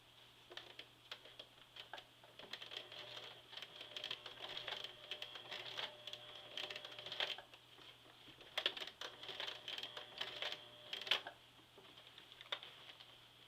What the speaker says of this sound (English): we're going to stitch down this area that we ripped through in the beginning